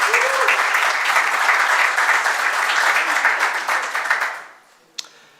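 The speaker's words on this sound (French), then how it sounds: "je vous demande de les applaudir tous les deux en même temps" A conference audience applauds two speakers at once at an event on listed companies' results. Steady, full clapping lasts about four seconds, then dies quickly, and a brief knock follows.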